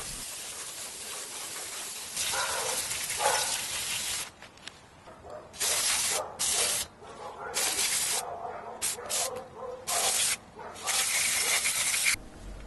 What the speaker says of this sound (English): now I'm spraying brake cleaner over everything